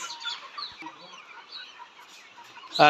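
Caged layer hens on a poultry farm give soft, overlapping clucks and murmurs at close range, ending in a sharper, louder squawk.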